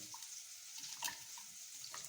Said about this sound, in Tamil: தண்ணி ஊற்றி நல்லா ஊறட்டும்